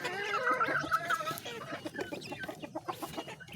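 A hen clucks close by among newly hatched chicks, her low repeated clucks mixed with faint high peeps over a few seconds.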